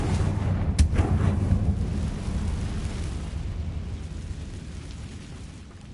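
A Confringo fire spell exploding in the Hogwarts Legacy video game, a sharp crack followed by a deep, rolling boom that slowly fades over several seconds, loud and heard alone.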